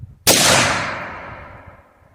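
A single sharp gunshot from a firearm loaded with Underwood ammunition during penetration testing, a loud close crack followed by a long decaying echo, with no talk.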